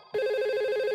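Simulated IP phone ringing in a Cisco Packet Tracer network lab, one sustained electronic ring tone starting abruptly and warbling steadily, clear and alone.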